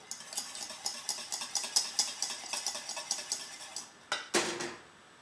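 A spoon or whisk scraping and clinking steadily against a mixing bowl as vanilla extract is stirred into cheesecake batter, a run of rhythmic strokes followed by two sharper knocks near the end, with no talking.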